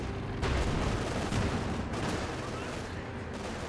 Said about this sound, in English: Trying to run him down with the machine guns.